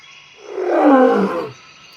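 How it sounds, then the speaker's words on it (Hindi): A lion roars once, a loud swelling growl that builds, peaks and fades over about a second, heard alone with no talk. "लायन, शेर।"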